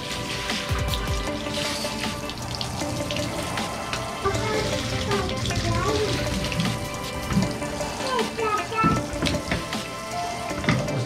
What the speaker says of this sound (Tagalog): Basahin ko lang siya ng tubig.